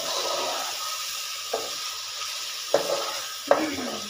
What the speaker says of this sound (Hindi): अच्छे तरीके से इसको फ्राई कर लिया है मैंने, बहुत स्लोली स्लोली।